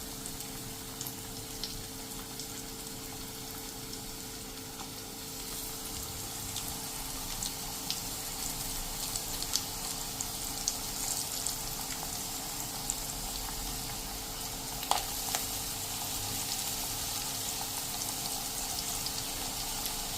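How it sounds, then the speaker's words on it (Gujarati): Battered onion slices deep-fry in hot oil, one batch of five to seven pieces for onion bhajias, giving a steady soft sizzle and bubbling with faint crackles throughout and no talking. "તો હવે એને આપણે એકદમ ક્રિસ્પી થાય ને ત્યાં સુધી ફ્રાય કરવાની છે"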